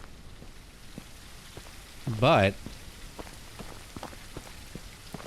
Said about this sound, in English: Oh no! Now it's raining.